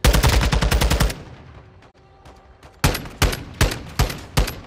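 Rapid automatic gunfire from a Call of Duty tournament match, a loud burst of fast shots followed by a lull, then several spaced single shots ringing out close and sharp.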